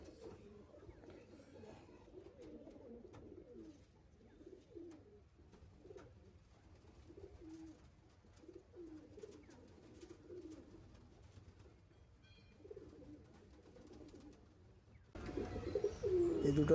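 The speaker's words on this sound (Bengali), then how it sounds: "দেখুন পায়রা।" Pigeons in a pigeon loft coo in soft, repeated low murmurs throughout, fairly steady and moderately near, with a louder burst of noise at the very end.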